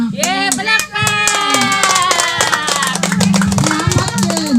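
People clap at Lola's 80th birthday party, with steady rhythmic claps running under loud, lively voices singing and calling out together.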